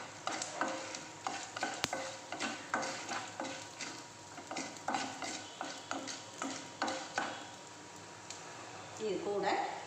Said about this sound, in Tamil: நம்ம கடுகு, உளுந்து, பெருங்காயம் போட்டிருக்கேங்க. அது போட்டால் ஜீரணத்துக்கு நல்லது, அதனால் போட்டுட்டு இது பொரிஞ்சு வரட்டுங்க.